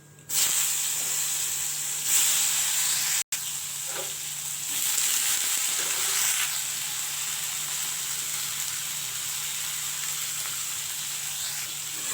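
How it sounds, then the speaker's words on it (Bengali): Whole spices crackle and sizzle in hot oil as a tempering for Bengali dal, a loud, steady frying hiss close by that runs without a break for about twelve seconds, with only a momentary cut. "ডাল আগেই চাপিয়েছিলাম তো এখন এই যে ফোড়ন দিয়ে দিলাম"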